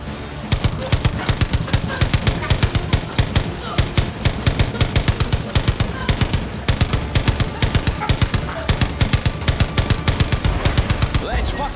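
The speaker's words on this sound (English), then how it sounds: "A fucking high-powered machine gun?" Rapid bursts of high-powered machine gun fire from the Far Cry 5 video game hammer away almost continuously, loud and close, with brief pauses between volleys.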